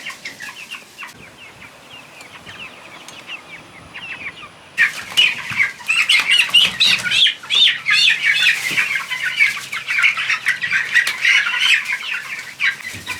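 A flock of chickens clucking and chattering nearby, with bursts of wing flapping and rustling growing louder partway through.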